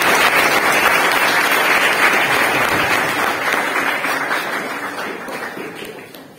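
Audience at a spoken-English class event giving a strong round of applause, dense clapping from many hands that gradually fades out.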